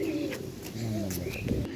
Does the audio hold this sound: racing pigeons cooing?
yes